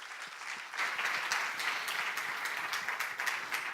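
An audience applauds after a group presentation at a partnership event, a dense, steady patter of many hands clapping that swells slightly after the opening second and continues at even strength.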